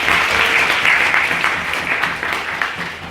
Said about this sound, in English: Can we have another round of applause for Tony Gallagher, please?